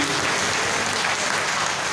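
Audience applause filling a hall at a business leadership experience-sharing event, dense and steady clapping at full volume throughout, with no voices over it.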